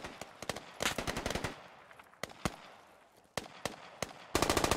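Incoming automatic gunfire in the Squad video game on the Packers Estate map, arriving as sharp bursts and scattered single shots, some close and loud, others farther off, ending in a dense rattling burst.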